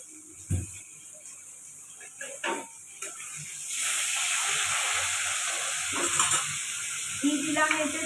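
Ghee hits a hot pan of cabbage with bhetki fish and bursts into a loud hissing sizzle that swells midway and holds, after a few earlier clinks and light knocks.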